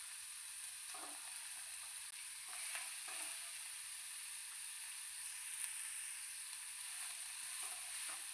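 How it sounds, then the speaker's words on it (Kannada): Capsicum and carrot fry in a pan for a bakery-style sandwich, a steady soft sizzle and hiss with a few faint stirring scrapes, no one speaking. "ಸ್ವಲ್ಪ ಫ್ರೈ ಮಾಡಿಕೊಂಡು ಓಕೆ"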